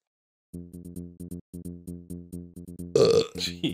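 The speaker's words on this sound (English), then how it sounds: "Choke that burp down." A person lets out a long, loud, croaky burp in choppy pulses, ending in a short laughing burst, during a Donkey Kong Country 3 gameplay session.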